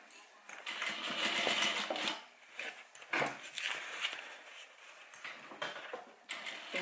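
A sewing machine stitches the seams of a homemade airliner cabin bag in rapid mechanical bursts that pause and restart, with short gaps between runs and moderate loudness.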